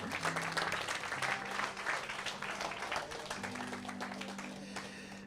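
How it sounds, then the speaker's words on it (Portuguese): A church congregation applauding during a sermon, dense sustained clapping for several seconds that slowly tapers, with a faint low hum beneath. "Aplaude Ruth."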